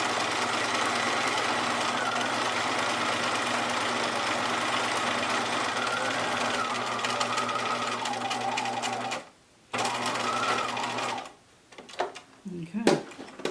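A sewing machine runs in a steady whir while back stitching a fabric mask, then stops briefly, restarts, and ends with short halting bursts and small clicks.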